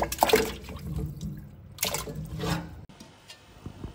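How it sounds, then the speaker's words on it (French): Water running into a large stockpot to make beef broth for pho, a splashing, gurgling pour that is strongest early and again around the middle, then fades toward the end. "Dans une grande marmite, je mets 6 litres d'eau pour avoir 5 litres de bouillon."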